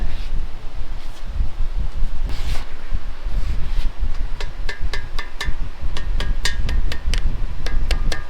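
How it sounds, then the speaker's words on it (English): A rapid series of sharp taps from a rubber hammer seating a part on a Ford 302 engine, about a dozen strikes in the second half, over a steady background rumble. "I take that rubber hammer and tap."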